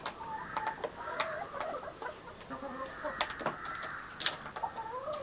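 Farm chickens cluck and peck around their feed, giving a busy series of short, moderately close clucks and calls in irregular bursts with no talking.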